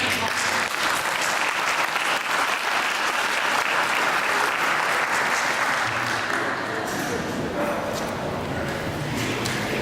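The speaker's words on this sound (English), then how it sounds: "So let's give all the politicians a round of applause." A crowd at a 2018 Barren County voter education event applauds the politicians with dense, steady clapping that stays loud and even for about ten seconds, with some chatter mixed in.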